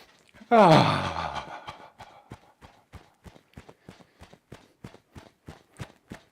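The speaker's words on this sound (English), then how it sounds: "Let's take a full breath in." A single deep, full breath drawn in during a relaxed breathing exercise, loud and close, then a steady series of soft rhythmic taps, like heels tapping the ground, continuing evenly.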